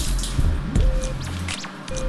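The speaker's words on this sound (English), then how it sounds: "you now need to rinse out the conditioner" Water runs over hair weave wefts to rinse out conditioner, making close wet squishing and dripping sounds with a brief faint tonal squeak.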